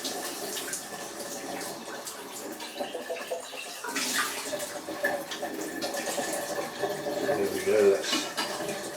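Running tap water rinses recyclable containers at a kitchen sink, a steady close splashing stream with light clinks of packaging, growing a little louder near the end.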